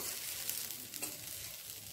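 Onion frying in a pan for a chicken black pepper dish gives a steady, close hiss and crackle that holds at an even level throughout, with a few brief stirring scrapes and no voices.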